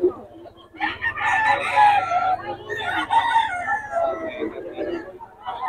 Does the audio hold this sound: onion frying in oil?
no